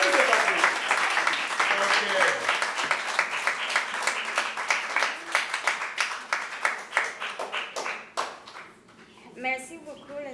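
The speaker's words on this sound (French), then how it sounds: "Est-ce qu'on peut applaudir pour la sœur?" A small audience, including children, claps for a nun in a run of distinct, rhythmic handclaps that thins out toward the end, with a voice speaking briefly near the close.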